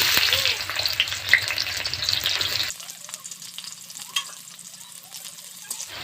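Chopped onion hits hot oil in a wok with kalonji and a dried chilli, a loud sizzle that suddenly drops to a quieter, steady frying with occasional stirring clinks.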